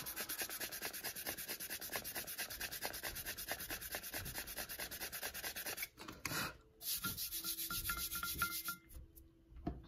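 Sandpaper rubbed briskly over a painted tumbler in fast, even back-and-forth strokes, close and steady for several seconds before breaking into a few short, uneven scrubs and pauses.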